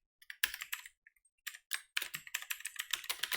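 Code typed on a computer keyboard gives quick, close clicking keystrokes in uneven bursts, with a short pause and then a faster run of keys at the end, and no voice.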